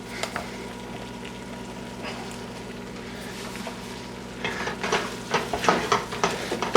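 Flour roux cooking on low heat in a pot for chicken pot pie soup, a low steady sizzle under a constant background hum, with louder stirring scrapes and clinks toward the end.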